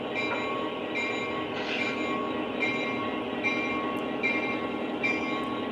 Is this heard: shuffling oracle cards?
no